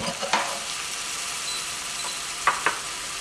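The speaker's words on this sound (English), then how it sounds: "I'm just going to stir the spices round now" Spices frying in a pan for turkey and chorizo spicy rice, a steady close sizzle with a few sharp scrapes of stirring near the start and again near the end.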